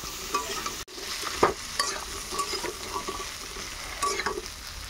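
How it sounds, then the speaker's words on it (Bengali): Vegetables are stir-fried in a pan for a home-style curry, a soft steady sizzle running throughout with a few brief clatters of a utensil stirring and scraping, close and fairly quiet. "এখন হচ্ছে এই সমস্ত সবজিগুলো দিয়ে দেব।"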